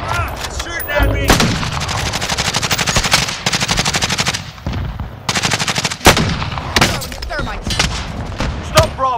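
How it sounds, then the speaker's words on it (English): Dense automatic gunfire from a Warzone Payload match on PS4, loud and sustained with overlapping bursts, heavy thumping impacts and brief lulls, with game sounds layered over it throughout. "Shooting at me!"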